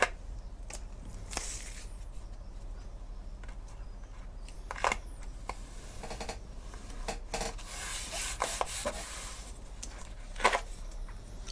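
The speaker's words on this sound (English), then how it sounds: "just fold that over, rub that down really well" Masking tape is rubbed down firmly for acrylic painting, heard up close as soft scuffing and rubbing strokes with a few brighter swishes, alone and without talk.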